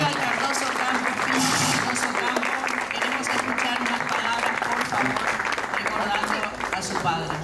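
Audience applause fills a Paraguayan music tribute event, steady dense clapping from a crowd with a low murmur beneath, continuing without pause throughout.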